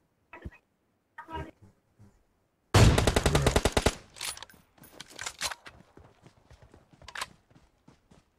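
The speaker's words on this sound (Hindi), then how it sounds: "गोली चली।" Gunfire in the mobile battle-royale game PUBG Mobile: a sudden loud burst of rapid automatic shots, followed by scattered sharper single shots and clicks that trail off at moderate volume.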